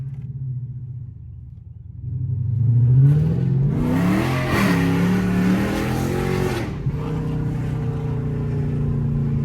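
A tuned Chrysler 300 5.7 Hemi V8 with a stage 2 flame and burble tune idles low, then revs up loudly with a rising roar, exhaust pops and rumble before settling back to a steady idle, close by.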